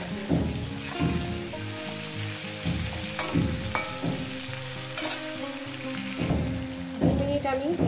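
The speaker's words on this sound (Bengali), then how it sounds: "2 মিনিট আমি ভেজে নিয়েছি শিমটাকে দিয়ে।" Flat beans fry in a pan with a steady sizzle, broken by repeated stirring scrapes and utensil knocks, while a voice talks intermittently over the kitchen sounds.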